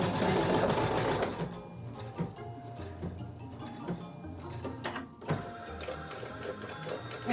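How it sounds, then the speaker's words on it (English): An embroidery machine stitches a medical mask held in the hoop, running a loud, fast, steady mechanical needle clatter that later eases into lighter rhythmic ticking, near and alone. "it's going to sew the lines where we are going to put the elastic."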